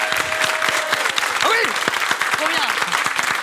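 Audience applause in a French studio show, a dense clapping wash under a lively mix of speech, exclamations and cheering voices that runs throughout at close, loud level.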